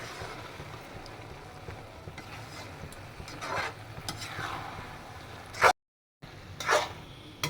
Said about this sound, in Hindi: अब आप इसको इसी तरह से तेज आंच पे पकाते रहें।